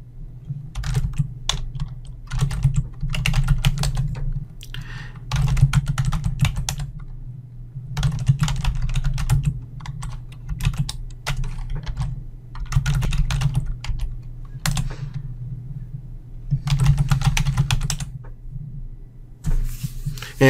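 Computer keyboard keys typed in steady bursts of clicks, close and fairly loud, with short pauses between runs of keystrokes while commands are entered; no voices.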